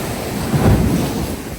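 Sea waves roll in on the coast at Scarborough, England, a brief, rumbling surge of surf that swells and recedes, fairly loud with wind noise.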